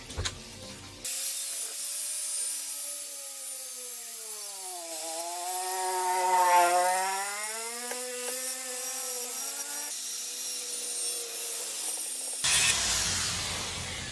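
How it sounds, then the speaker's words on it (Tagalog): An angle grinder cuts a motorcycle monoshock mount to fit a Raider 150 chassis, its high whining tone rising and falling in pitch as the load changes, loud and continuous for about eleven seconds before stopping. "So grinderan natin ng konti dito mga boss."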